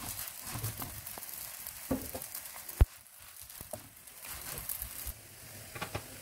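Msemen, a folded Moroccan flatbread, frying in a pan with a little oil and butter, a faint steady sizzle broken by scattered soft clicks and one sharp tap.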